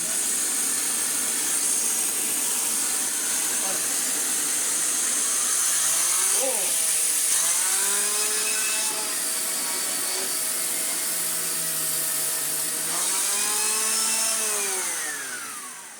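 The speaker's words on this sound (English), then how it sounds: "Let us have a quick spin up of the turbo head" A Shark CV100UKT corded vacuum's turbo head spins up, its motor whine rising and falling in pitch over a steady loud rushing airflow, with brief sweeps as the speed changes.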